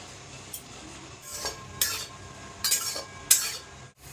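Grated coconut goes into a wok for a steamed rice-cake filling: several scraping, rustling bursts with light metallic clatter over a quiet background.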